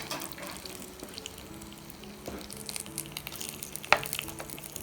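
A sizzling tempering of curry leaves and dried red chillies is poured into a pan of ripe mango pulissery, giving a faint, steady crackle and hiss with a brief sharper splash near the end.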